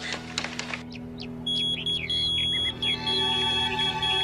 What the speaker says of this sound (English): He left his beeper here.